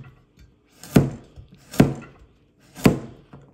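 A knife chops a carrot lengthwise on a cutting board, three distinct sharp thunks spaced almost a second apart, close and clear with no talking.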